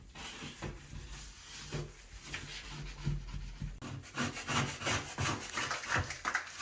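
Dried grout being scraped off a nail-free roof system, rough rasping strokes repeating irregularly, close and moderately loud, growing denser toward the end.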